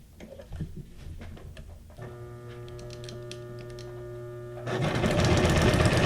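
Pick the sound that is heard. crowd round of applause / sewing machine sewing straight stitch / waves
sewing machine sewing straight stitch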